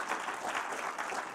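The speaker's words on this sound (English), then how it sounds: "So let's give him a round of applause." A seated audience at a talk applauds, a brief burst of steady crowd clapping heard from some distance and at modest volume.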